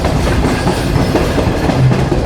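The Shalimar Express rolling toward Nawabshah railway station at night, with a steady loud rumble and clickety-clack of wheels over the rails that continues throughout, close by and without speech.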